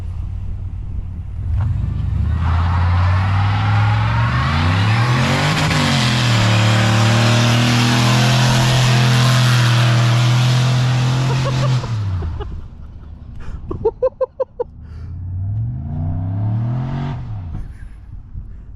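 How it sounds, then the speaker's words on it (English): A budget turbo truck does a burnout, its engine revving hard and holding high for about ten seconds with the tire spinning, then dropping off, followed by a few sharp pops and a quieter idle. "That was a good burnout."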